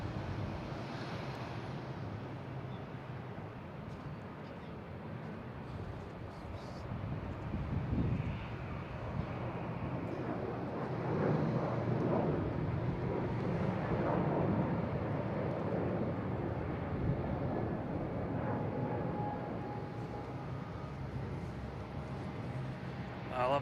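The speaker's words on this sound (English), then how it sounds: "we have Delta here heading to Detroit, an A321neo" A Delta Airbus A321neo on its takeoff roll at Boston Logan International Airport, a broad roar that builds and holds steady with wind buffeting the microphone, heard from a distance with people talking over it.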